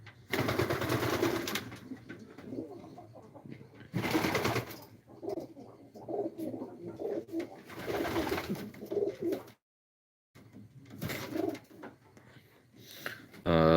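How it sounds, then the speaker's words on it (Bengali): Racing pigeons coo in repeated bursts with a brief silent gap partway through, their soft throaty calls filling most of the clip. "দেখতে পাচ্ছেন সবগুলো রেসার কবুতর"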